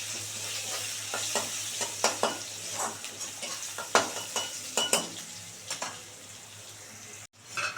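Onions frying with a little sugar in a pan for a spicy tengra fish curry, a steady close sizzle broken by repeated clinks and scrapes of stirring, with a brief dropout near the end.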